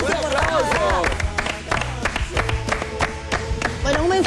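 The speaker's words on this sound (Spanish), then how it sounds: "bravo, chicos. Un aplauso." Applause on a Spanish-language TV talk show for guest athletes, with clapping and crowd noise running under loud music, voices and sound effects throughout.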